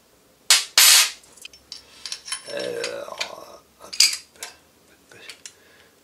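Metallic clicks and a sharp clack as the slide of a Smith & Wesson 1911 Pro Series pistol is fitted onto its frame, followed by scraping and a few lighter clicks; quiet pauses between.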